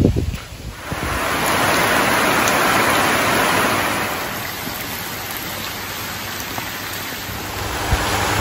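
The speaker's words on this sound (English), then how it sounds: "this is the first time the rain's come in and it's getting me" Heavy rain pours down and blows in through the open windows of a tent in the Australian outback, a loud, dense, continuous roar that swells and then eases slightly.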